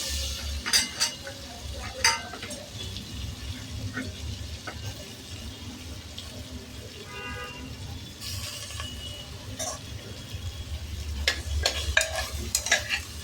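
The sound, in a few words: carrots and vegetables frying in butter for soup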